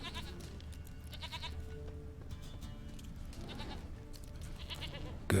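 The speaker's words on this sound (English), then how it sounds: "I hear Princess the Goat." Goat bleats sound repeatedly from Princess the Goat in The Witcher 3: Wild Hunt, several wavering calls rising over a steady game backdrop of ambience and soft music, moderately near.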